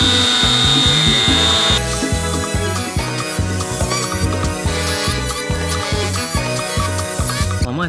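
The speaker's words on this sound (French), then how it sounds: "Hop là, changement de disque. Disque qui coupe." A cutting disc on a power tool grinds through an aluminium plate being shaped into a knife, a loud, continuous, close-up whine with a rhythmic pulsing texture throughout.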